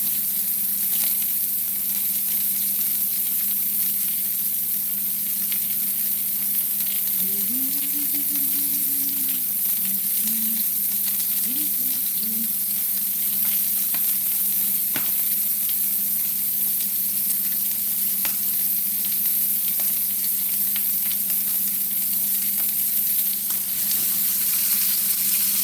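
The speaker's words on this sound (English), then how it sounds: "We're just going to sear the top and the left and the right side." Rib roast searing in a hot pan, a loud, continuous broadband sizzle held steady throughout, close up, with a faint low hum underneath and no talking.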